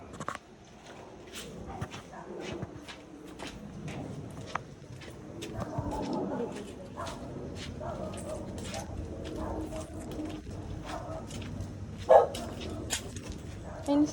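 A large dog barks in scattered bursts outdoors amid people talking, with sharp ticking and clip-clop sounds around it.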